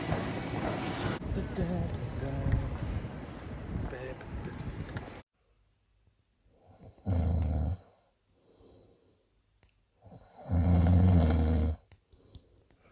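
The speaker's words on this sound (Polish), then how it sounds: "Przed chwilą chrapałeś." A man snores in two loud, drawn-out breaths a few seconds apart, each followed by quiet breathing, after a stretch of noisy background chatter that cuts off suddenly.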